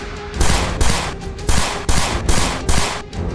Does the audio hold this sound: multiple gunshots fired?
yes